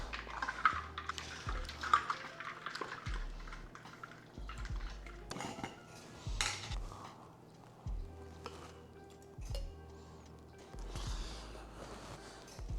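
Ice rattles and clinks into a container in several scattered bursts, close and fairly quiet, with small knocks and scrapes between them.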